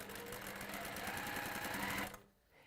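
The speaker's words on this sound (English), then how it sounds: "I'm going to start from that point and stitch down there" A sewing machine stitches fabric in a steady, continuous whir with a rapid mechanical rhythm, close and fairly loud, stopping abruptly near the end and leaving quiet room sound.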